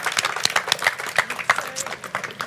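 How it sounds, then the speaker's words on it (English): A small group clapping along at a gathering, loose irregular claps scattered over a couple of seconds, fairly faint and mixed with light voices in the background. "Let's clap him along."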